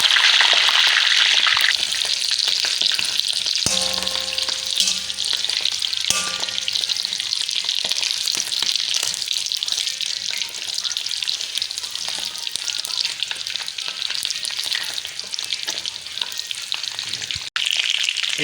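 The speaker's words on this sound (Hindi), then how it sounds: "जी तो घी हमारा गर्म हो चुका है, अब इसमें हम डालेंगे तितर।" Partridge (francolin) meat frying in hot ghee, with a steady, loud sizzle that runs continuously throughout and a few faint stirring clinks, no voices.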